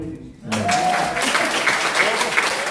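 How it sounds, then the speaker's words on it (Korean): Audience applause at a lecture in Busan, a sustained crowd clapping that starts abruptly and stays loud and dense, with some voices mixed in. "박수 한번 해주세요"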